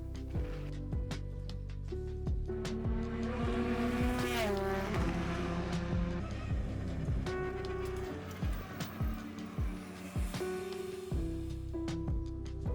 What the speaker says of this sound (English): got them to a state where they're turning laps on a race circuit